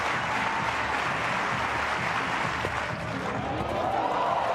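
A stadium crowd at a long jump competition keeps up a dense, steady roar of applause and cheering, broad and fairly loud throughout, with no single voice standing out.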